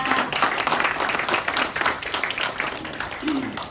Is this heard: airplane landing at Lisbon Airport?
no